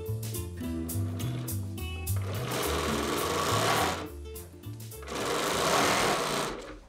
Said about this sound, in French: un bruit familier se fait à nouveau entendre